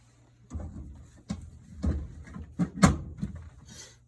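A home furnace's access door is fitted back on after an air filter change: a close series of sharp metal clunks and rattles, about six knocks spread over a few seconds.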